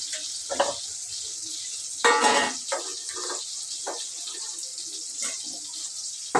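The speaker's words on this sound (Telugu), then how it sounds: "ఒకటికి రెండు నీళ్ళు పోసేసినాను" Water is poured into a pot of upma semolina in a home kitchen, roughly two parts water to one part semolina, as a few short splashing bursts and gurgles close by, with no talking.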